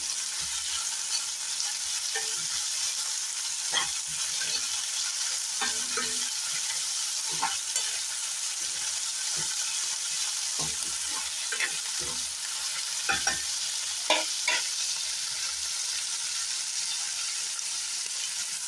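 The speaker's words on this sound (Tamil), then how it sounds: "ஒரு 2 நிமிஷம் நல்லா வதங்கட்டும்." Capsicum gravy sautéing in a pan, with a steady close sizzle running throughout and a spoon scraping and tapping at irregular intervals, with no voices over it.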